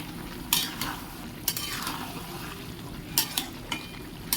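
A spoon stirs a spicy bitter gourd and long bean curry in a sizzling pan, steady frying hiss underneath with a handful of scraping knocks against the pan.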